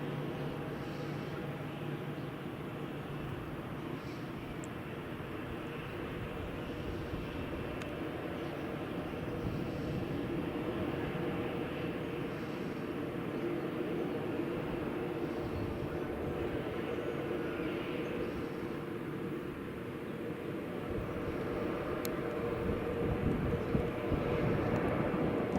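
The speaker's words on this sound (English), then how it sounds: "Hey, here goes the Ryanair." A Ryanair airliner takes off at Madeira Airport, a sustained engine roar and rumble that stays fairly steady and slowly builds in loudness toward the end.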